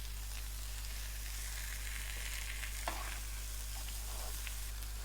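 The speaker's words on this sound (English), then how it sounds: "They're cooking perfectly on this wood burner." Fish frying in a pan on a wood burner in a trail cabin, a steady broadband sizzle throughout with a strong low hum underneath and a few faint clinks, close and continuous.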